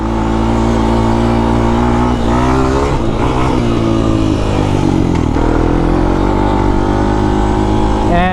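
A Honda TRX 250X ATV engine revs loud and close during a ride while the rider downshifts, the pitch rising and falling with each gear change, and someone talks over it throughout.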